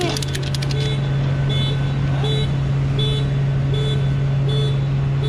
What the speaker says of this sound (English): Little whiny horn.